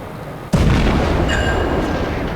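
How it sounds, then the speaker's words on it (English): A warship's guns fire a shell salvo in World of Warships, a sudden loud boom followed by sustained rumbling roar that fills the rest of the moment, with no voices. "I wanted to shoot above him, not at him."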